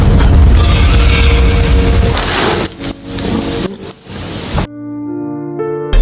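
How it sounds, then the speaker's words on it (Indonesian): A landmine detonates in the film Escape (2024), a heavy boom with a rumbling blast and debris that breaks off abruptly into near silence, followed by faint tonal music. "tiba-tiba ia dikejutkan dengan suara ledakan bagong yang menginjak ranjau."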